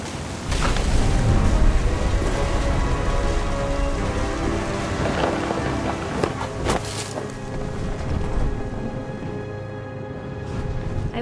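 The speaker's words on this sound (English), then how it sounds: "The thunder sounded much too close and full of angry power" A thunderstorm in What Remains of Edith Finch brings steady heavy rain pattering on surfaces, with a few sharp cracks and a low rumble of thunder beneath the downpour and no talking.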